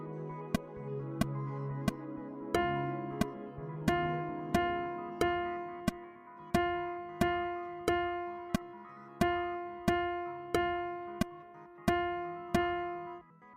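A steady pattern of one eighth note followed by two sixteenth notes on every beat, played as clear, evenly spaced plucked or struck tones over a sustained chord, with no voices present.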